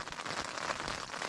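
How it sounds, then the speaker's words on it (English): Hail pelting a tent at a mountain camp on a Colorado thru-hike after a thunderstorm, a dense, steady patter of close, sharp ticks with no voices. "it's just hailing"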